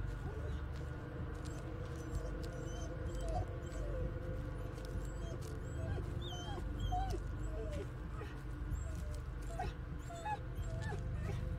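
A dog in the horror video game Blair Witch whimpers and yips repeatedly in soft, high, plaintive cries over a dark, rumbling ambient background, with no speech.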